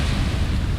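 Steady, loud wind noise roars against sun canopies on recumbent trikes riding along a waterfront, a continuous broadband rush with no break.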